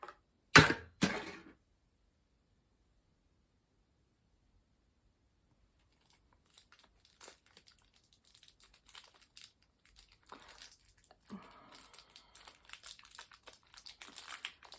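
Two sharp crinkling bursts of plastic packaging up front, then a long quiet stretch before softer, scattered rustling and crackling returns.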